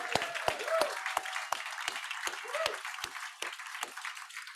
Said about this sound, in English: let's make sure we give a big round of applause for our Hotel Nico staff